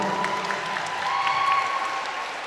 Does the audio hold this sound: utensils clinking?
no